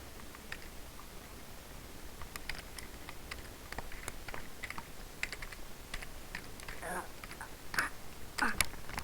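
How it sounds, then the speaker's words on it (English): Slow, uneven one-handed typing on a computer keyboard, with soft clicking keystrokes tapped out one at a time. Clicks grow a little louder and denser toward the end, and faint speech murmurs in the background. "I'm not good at typing one hand."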